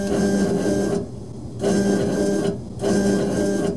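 K40 Chinese laser engraver cutting aluminum foil, three rhythmic bursts of mechanical buzzing as the head travels, separated by short quiet pauses, heard close and alone.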